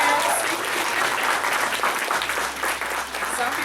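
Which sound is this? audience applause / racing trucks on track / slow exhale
audience applause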